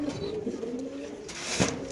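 A female pigeon coos in low, soft, rolling notes close by, with faint background noise and a brief rustle near the end.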